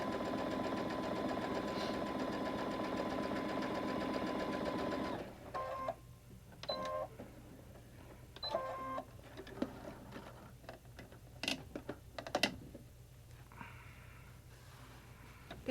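Twin-needle sewing machine stitching trim, a steady close whirring run for about five seconds, then quieter clicks and scattered handling sounds.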